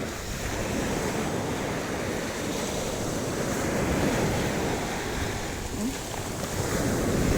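Loud surf rolls and crashes close by, churning without pause, mixed with gusts of wind buffeting the microphone.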